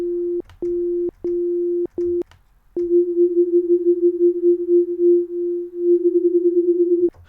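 A steady synth tone from Native Instruments FM8, first in short stabbed bursts, then held for several seconds with a gentle wobbling, beating shimmer as slightly detuned unison voices drift against each other.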